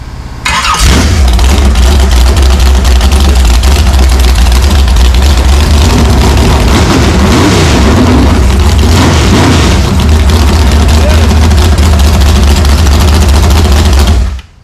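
A 1965 Oldsmobile 400 V8 fires up and runs loud and close, a deep, steady rumble that holds for over ten seconds before cutting off.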